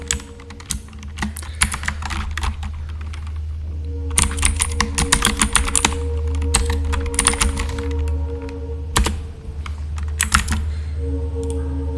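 Typing on a computer keyboard during a live coding session, a steady patter of close key clicks in irregular bursts with brief pauses, continuing throughout over a faint low hum and no talk.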